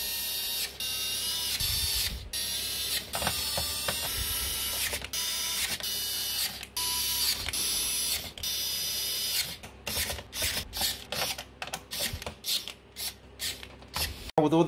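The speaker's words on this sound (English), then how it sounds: "let's put in all 9 of our motherboard screws" Small screws are driven into a motherboard inside a Lian Li Lancool 216 case during a PC build, a run of faint whirring and ticking bursts from the screwdriver, then a choppy series of short taps and pauses, close and quiet.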